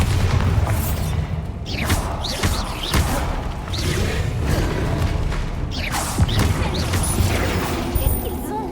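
Bombarda blast spells from Hogwarts Legacy, a dense run of loud booming impacts and crashing debris over a busy game soundscape, with bursts around the second and sixth seconds standing out.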